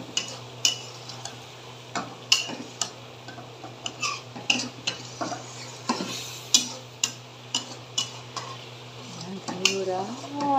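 A spoon clinks and scrapes against a pot as half-cooked food is stirred, giving a steady series of sharp taps about once a second over a low hum, close by, with a voice speaking near the end.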